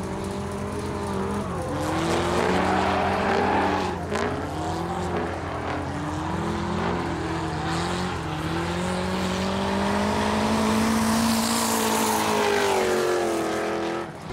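An LS V8-swapped Mazda Miata drifts in tandem with other cars on a track, its engine wailing and rising and falling in pitch while the tires screech and skid continuously, loud and close throughout.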